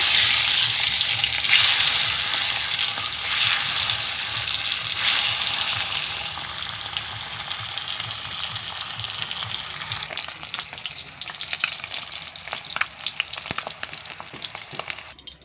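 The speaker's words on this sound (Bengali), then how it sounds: "তেল গরম হয়ে গেছে, ডিমগুলো ছেড়ে দেব।" Eggs, seasoned with turmeric and salt, fry in hot oil in a kadai with a loud, continuous hiss that settles down over time. Sharper crackles and spatters come in near the end.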